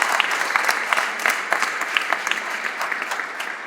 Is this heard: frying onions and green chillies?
no